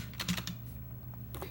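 Keys clatter on a Model F62 Kishsaver reproduction buckling-spring keyboard, a quick cluster of crisp clicks followed by a pause and another short burst, close and fairly quiet over a low hum.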